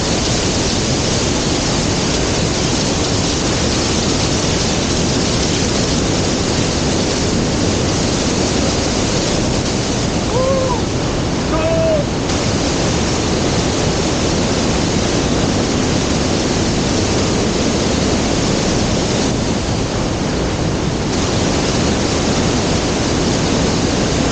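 Roaring waterfall heard from directly beneath, a powerful steady wash of pounding water close by that continues unbroken with no speech.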